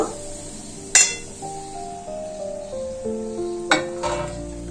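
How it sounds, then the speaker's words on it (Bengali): A spoon stirs bread crumbs into a cooked spice masala in a metal pan, with sharp clinks and a ringing pan tone over a faint sizzle. "এর মধ্যে আমি ব্রেড ক্রাম্ব দেব"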